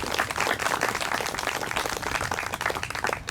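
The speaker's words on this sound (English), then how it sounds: "big round of applause" An outdoor audience at a headstone dedication ceremony for the 11th Kansas Volunteer Cavalry at Fort Caspar Museum breaks into steady, full applause, dense clapping throughout at an even, fairly loud level.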